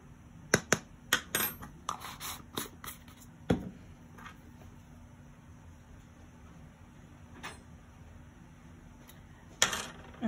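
Medium amber glass frit is poured into a small plastic container, giving a quick burst of sharp, brittle clicks and rattles, then scattered faint ticks and another short clatter near the end.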